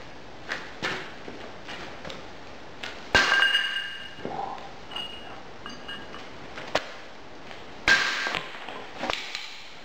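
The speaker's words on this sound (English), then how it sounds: "I'm now going to break the leftover ingot and see exactly what sort of chills in the iron." A cast iron ingot made from melted camshafts is broken apart in a series of sharp metallic cracks and clinks, spaced by pauses, with two heavier strikes standing out. No voices are heard.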